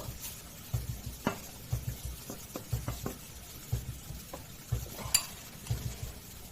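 Pork stir-frying in a pan, soft sizzling under regular clinks and scrapes of a utensil stirring roughly once a second, quiet and close, no talk.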